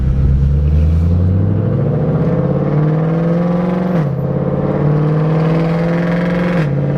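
A loud car engine revs close by, its droning pitch climbing steadily, dipping twice as gears shift, then rising again.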